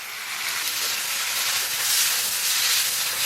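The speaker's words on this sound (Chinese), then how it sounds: "最后咱们把面条给它下里边" Noodles and greens stir-fry in a hot wok, giving a loud, continuous sizzling hiss that stays even and close throughout.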